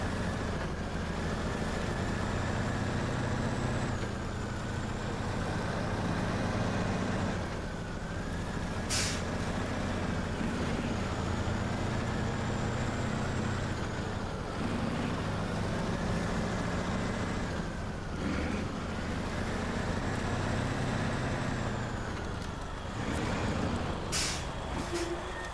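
A heavy truck hauling a trailer in the game SnowRunner drones on with a steady low engine rumble throughout, punctuated by a couple of sharp hissing air-brake bursts.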